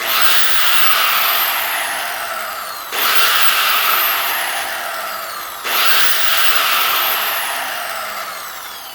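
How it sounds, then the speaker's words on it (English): A Milwaukee angle grinder runs up loud and alone in three bursts, each starting abruptly and slowly tapering in a steady high whine over about three seconds. "You can definitely tell that the Milwaukee is a way more efficient grinder."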